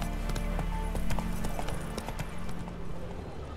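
Steady clip-clop of a horse's hooves carrying a rider through The Witcher 3, the rhythmic beats clear and close over a continuous low game ambience, with no talking.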